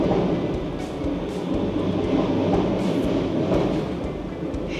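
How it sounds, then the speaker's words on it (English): A train rumbles past outside a guesthouse room window in San Sebastián, a continuous low roar with rhythmic clacking of wheels, moderately loud and heard without talk. "can you hear the train?"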